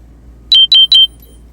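An electronic alarm sounds three quick, loud, evenly spaced high beeps in a row against near silence.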